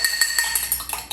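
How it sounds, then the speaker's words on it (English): Rapid, rhythmic clinking of a utensil against glass as egg is whisked in a glass, a quick steady whisking that is bright and close. "And then I'm just gonna mix this up."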